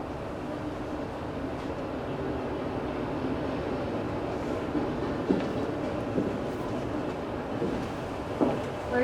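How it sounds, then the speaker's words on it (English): A stage sound effect of a train pulling away, a steady rumbling rail drone with faint clicks and clanks running throughout at a moderate, even level. "I saw the train pulling away"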